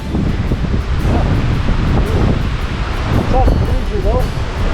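Wind gusting across a motorcycle rider's microphone on a trip through the Scottish Highlands near Rannoch, a loud, steady rumbling buffet that fills the whole clip with no clear speech over it.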